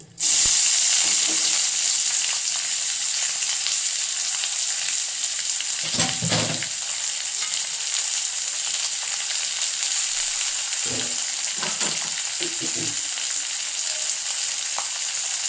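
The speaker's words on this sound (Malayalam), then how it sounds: "എന്നിട്ട് നമുക്ക് ആദ്യമേ ഈ സവോളയും ഒരു പച്ചമുളകുണ്ട്, അതും കൂടെ വറുത്തെടുക്കാം." Sliced onion and green chili fry in hot coconut oil, a loud, steady close sizzle throughout, broken by a few brief thuds of stirring.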